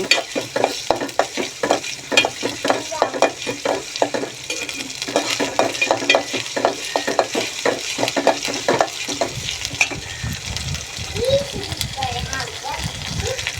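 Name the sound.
stirring frying biryani spice paste with pepper and cardamom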